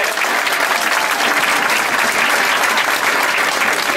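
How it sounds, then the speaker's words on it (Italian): Steady, loud crowd applause fills a football festival opening ceremony in Milan, a dense wash of clapping that holds evenly throughout without breaks. "un applauso anche per loro"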